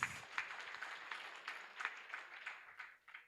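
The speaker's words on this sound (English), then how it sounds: "Give him another round of applause, please." Audience at a Lions Clubs district gathering in Uganda gives a round of applause, moderately faint and somewhat distant, a steady patter of clapping lasting a few seconds.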